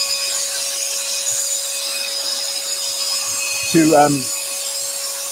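A scroll saw cutting wood for a lantern: a steady mechanical buzz with high whine and tonal hum, a brief rougher rasp near the end, and a voice speaking briefly.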